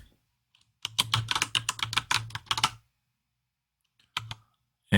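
Typing a password on a computer keyboard, a quick run of about a dozen key clicks followed by a pause and then a couple more taps, close and crisp, with no speech.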